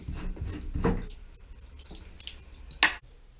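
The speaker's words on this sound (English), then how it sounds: "Don't worry if some water flies out, that's normal." Water splashes and drips in a few short bursts close by from an undone toilet cistern supply pipe, with quiet gaps between the spurts.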